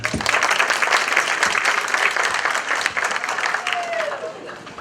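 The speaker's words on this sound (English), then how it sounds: "Round of applause." Audience applause at a Hispanic scholarship award ceremony in Lynn, a dense, steady clapping from a crowd that holds strong for several seconds and tapers slightly at the end.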